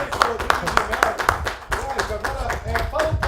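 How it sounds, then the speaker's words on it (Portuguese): Studio audience clapping on a Brazilian talk show, quick, sharp claps at a fairly even rhythm, close and clear, with talk running under and between them. "merece aplausos, isso aí"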